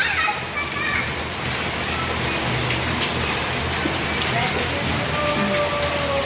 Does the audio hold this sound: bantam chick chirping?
no